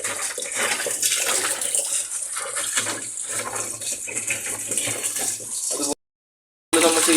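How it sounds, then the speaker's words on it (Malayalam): Water poured and splashing inside the tub of an LG washing machine while the drum is scrubbed clean, a continuous close rushing wash broken by a brief gap of silence near the end. "ഇപ്പോൾ വെള്ളം ഒഴിച്ചൊന്ന് മൊത്തം ഇവിടെ കഴുകുകയാണ്"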